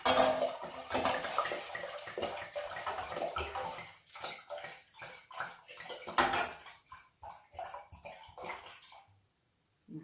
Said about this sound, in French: vous versez vos 2 bouteilles de vin.